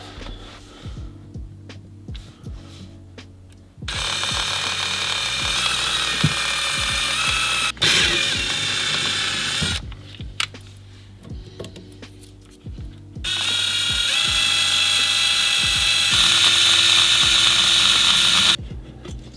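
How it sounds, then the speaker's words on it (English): A power drill whirs loudly in two long bursts, drilling holes to fit stainless steel pedals in a BMW F80 M3, each several seconds, separated by quieter pauses with clicks and handling noise. "let's drill our holes"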